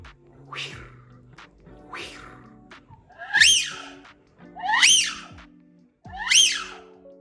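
A handheld wind duck call blows three rising, reedy whistles spaced about a second and a half apart, preceded by softer airy puffs; a whistling imitation of a drake wigeon.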